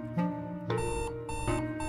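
Alarm clock ringing in the Florence video game, a bright repeating electronic chime that sounds in three loud bursts across under two seconds, alone with no talk.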